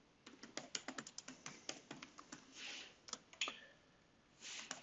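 Code is typed on a computer keyboard in rapid irregular bursts of close, crisp key clicks, with brief pauses between runs and a longer key press near the end.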